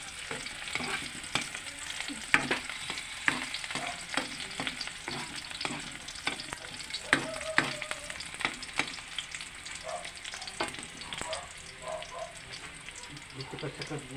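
Onion, ginger and garlic sautéing in a pan for a crab dish, a steady close sizzle and crackle with stirring scrapes throughout, faint voices in the background.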